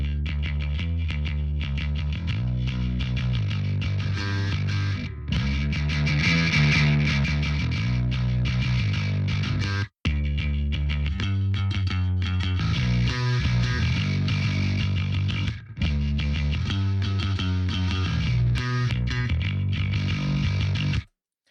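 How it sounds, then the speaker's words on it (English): A heavily distorted, gritty bass guitar plays a steady riff through an amp, thick and buzzing with bright high-end crunch, briefly cutting out twice. "It really adds a lot of high-end just distortion and grit"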